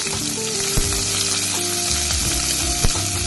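Chopped onions go into hot oil already crackling with mustard seeds and cumin for a black-eyed pea and potato curry, giving a loud, steady close-up sizzle with a few light clinks of stirring and no voices.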